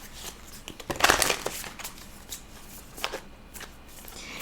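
Tarot cards being shuffled by hand, with a loud, dense riffling burst near the start followed by softer, scattered flicks and card slaps close by, with no talking.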